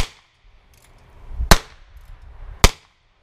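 Two sharp, loud .22LR gunshots crack about a second apart as rounds strike a body armor vest, each a brief close report that decays quickly.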